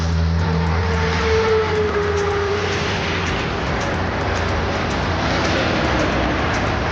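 Highway traffic roars past a bike rider, a loud, continuous rumble of engines and tyres with steady wind noise and no clear speech.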